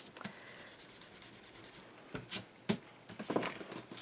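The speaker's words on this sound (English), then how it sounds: "Erase anything on here." Soft, quiet scratchy rubbing of an eraser on paper during a craft project, coming in a few brief bursts near the end after a faint start.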